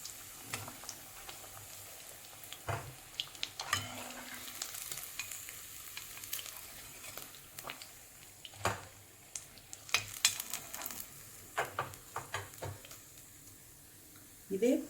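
Paneer pakoda pieces deep-fry in hot oil with a continuous bubbling sizzle, broken by scattered sharp clinks and taps of a utensil against the pan.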